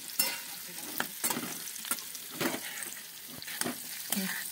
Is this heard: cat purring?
no